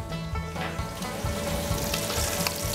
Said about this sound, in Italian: Facciamo rosolare leggermente i gamberetti.